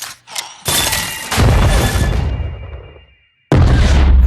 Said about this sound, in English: A single blast from one of her bombs fitted with a Hextech crystal makes Powder lose everything.